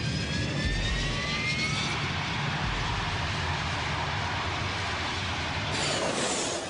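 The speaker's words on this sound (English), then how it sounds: "The Prowler, call sign EZ01, approaches the runway. EZ01, you're cleared for takeoff." An EA-6B Prowler military jet taking off on a runway, its engines giving a loud, steady roar with a rising whine and a brief higher-pitched swell near the end, no voices.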